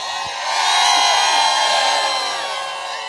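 A crowd at a local cricket tournament match in Lanja swells into cheering and shouting, a broad, distant roar that rises and then slowly fades.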